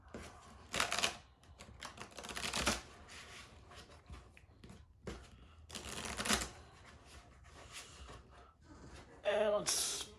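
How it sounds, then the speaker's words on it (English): Cards for a pro wrestling promoter card game being shuffled by hand in several quick, crisp riffling bursts close to the mic, separated by quieter handling sounds. "We'll just shuffle things up here"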